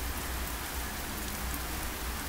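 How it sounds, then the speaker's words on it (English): Heavy rain pours down outdoors in a dense, steady, loud hiss of drops that fills the whole stretch without a break, with no voices. "it's really pouring down here"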